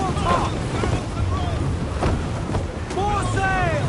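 Storm wind at sea in the video game Assassin's Creed IV Black Flag: a loud, steady roar of wind and surging waves around a sailing ship, with crew voices calling out over it.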